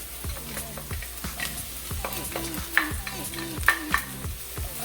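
Onion sautéing with garlic and thyme in a pot for pumpkin rice gives a steady close sizzle broken by rhythmic scraping stirs and light utensil knocks.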